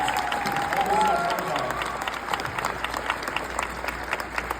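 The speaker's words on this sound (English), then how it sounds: "Everybody, one round of applause for Captain Winston Scott" Dense applause fills the room, steady and sustained throughout, with some crowd noise and a voice briefly audible near the start.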